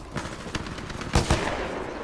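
Weapon fire in the video game Titanfall 2: a quick burst of several sharp shots, with two louder close blasts in the middle, over steady game background noise.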